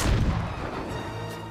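A big in-game explosion in Ghost of Tsushima booms loud and close, its heavy low rumble at the start tailing off into a long crackling decay.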